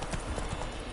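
Horse hooves clip-clopping in The Witcher 3 video game, a quick steady rhythm of hoof beats on the ground, close and clear over a continuous background bed, without talk.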